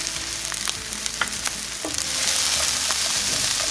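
Zucchini and purple onion cooking in a pan over medium heat, a close, steady crackling sizzle with occasional utensil taps that thickens into a denser hiss partway through.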